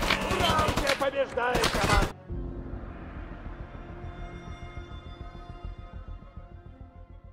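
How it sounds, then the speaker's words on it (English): Fully automatic gunfire in the video game Tarkov Arena opens with loud, dense bursts of close rapid fire, then trails off into a quieter, steady rattle of distant automatic shots that continues to the end. "the sweet sound of fully automatic fire being slung relentlessly downrange at your opponents"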